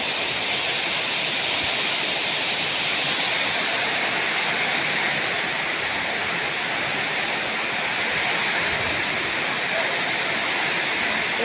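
Steady, dense rain pours down without a break, a continuous hiss that fills the whole stretch, falling where elephants and their mahouts are kept.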